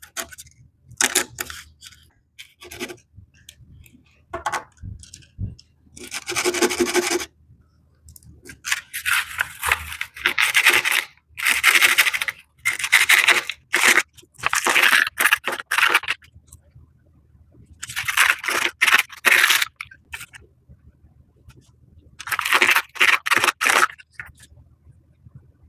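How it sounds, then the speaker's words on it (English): Butterfly pea seeds are rubbed on medium grit sandpaper, giving repeated bursts of harsh, gritty scraping, close and fairly loud, separated by short quiet pauses. "you just kind of take the seed and rub it on the sandpaper"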